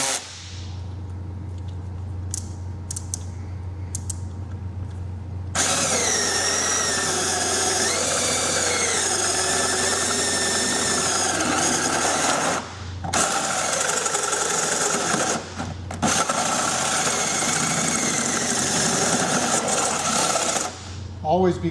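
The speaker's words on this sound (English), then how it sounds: "the bits have a tendency to grab a hold of your aluminum and you can break your center bit" A power drill fitted with a center bit bores a hole through aluminum after a pilot hole, a sustained whining run with short pauses and restarts, loud and close.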